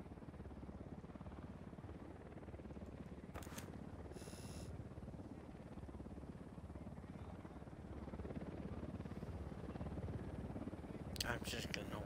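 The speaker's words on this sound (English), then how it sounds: "while the helicopter passes overhead and the team slowly marches" A helicopter passing overhead in a video game, a steady low rotor drone throughout, swelling slightly louder near the end, with a couple of brief higher-pitched blips.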